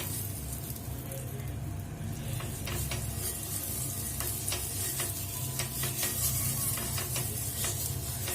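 Onion dipped in oil rubbed over a hot nonstick tawa for Maharashtrian masala amboli, giving a steady close sizzle with scattered crackles and soft pops throughout.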